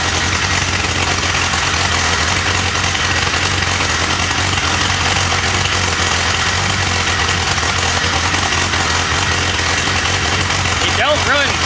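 A rough-running engine, a middle cylinder running hotter than the others and black smoke coming from it, idles steadily and loudly up close with a constant low throb throughout.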